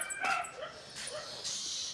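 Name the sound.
dog barking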